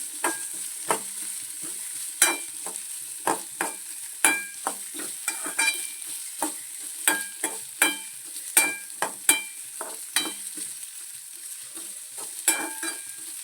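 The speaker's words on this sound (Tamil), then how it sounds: "இந்த பீட்ரூட்டெல்லாம் நல்லா சுருங்கி வர வரைக்கும் நம்ம நல்லா ஃப்ரை பண்ணிகிட்டே இருக்கணும்" Chopped beetroot frying in a pan for chutney, a soft continuous sizzle punctuated by a spoon scraping and stirring in irregular taps and clinks, close and alone without talk.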